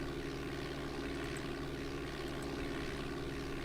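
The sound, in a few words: Cessna propeller engine, video game Flight Simulator 4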